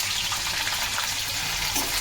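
Onions, green chilies and whole garam masala frying in oil in a pan as they are stirred for a jackfruit and prawn dish, a steady close sizzle with a gentle wet crackle and no voices.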